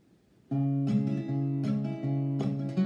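An acoustic guitar plays the bridge of a song, with a run of ringing strummed and plucked chords that sustain and overlap, close and clear, with no voice.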